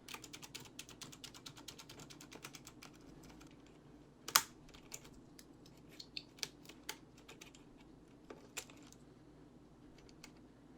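Plastic keycaps clicking and popping off a computer keyboard being cleaned, several at a time, in a steady run of small, close, sharp snaps, with one louder crack midway.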